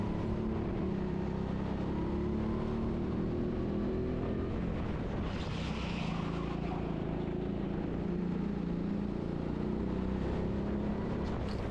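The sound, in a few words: go-kart engine on a track at TeamSport Sheffield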